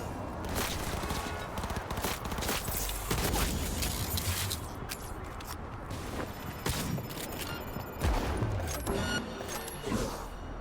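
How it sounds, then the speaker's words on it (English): Video game gunfire during a street gun battle with police, sustained bursts of shots and clattering combat noise running continuously and densely throughout, loud and busy with no clear speech. "I'll run up here and get in a gun battle with the cops"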